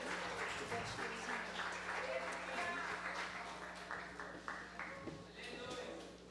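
A church congregation applauds during a Sunday service, a fairly soft, steady patter of clapping running through the whole stretch alongside voices and a faint sustained tone.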